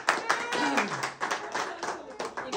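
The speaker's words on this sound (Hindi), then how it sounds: "तालियां तालियां।" Several people clap at an office picnic, uneven claps in scattered bursts with voices talking over them.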